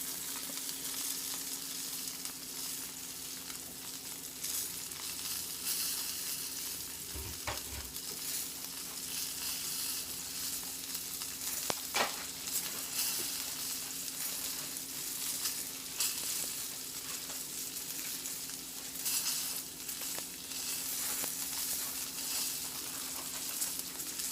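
A pork chop frying in grease in a pan gives a steady, close crackling sizzle that runs the whole time, with a couple of sharp clicks of the pan or utensil partway through.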